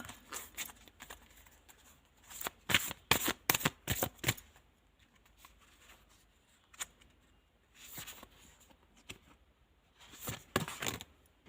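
Tarot cards being shuffled by hand in several quick riffling bursts, with quieter pauses between them and no talking.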